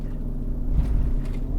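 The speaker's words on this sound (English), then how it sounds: "Ooh, loud engine brake. Do you hear that?" Deep, steady low rumble of a heavy truck's engine brake in Euro Truck Simulator 2, holding loud and continuous for a brief stretch with no talk over it.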